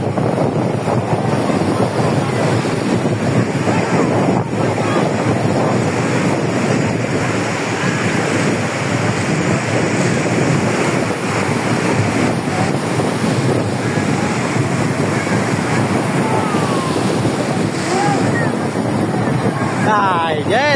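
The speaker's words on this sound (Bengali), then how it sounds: "দেখেন কি সুন্দর ঢেউ।" Ocean surf at Cox's Bazar beach rolls in as a loud, continuous wash of breaking waves, heavily mixed with wind buffeting the microphone and the drone of a nearby motorboat.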